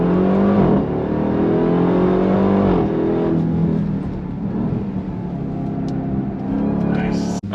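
A 2025 Dodge Durango Hellcat Hammerhead SUV accelerating hard on throttle, its loud supercharged engine rising in pitch through a gear, then easing off near the end.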